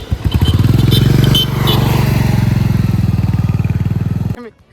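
A motorcycle engine throbs loud and close with a fast pulsing rhythm during a ride, holding steady before dropping away at the end.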